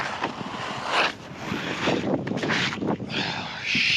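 A strong gust of wind sweeping through snow outdoors near a parked car, roaring and buffeting the microphone in uneven surges that swell, dip and rise again over four seconds.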